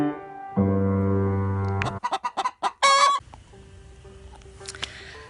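Chickens in a Michigan flock waiting to be let out onto pasture give a drawn-out call followed by a string of sharp, loud clucks and squawks close by, then quieter background clucking.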